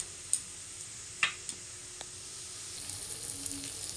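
Moong dal poured into hot oil in a wok over ground masala, giving a soft, steady sizzle with a few sharp ticks and pops scattered across it, fairly quiet and close, with no voices.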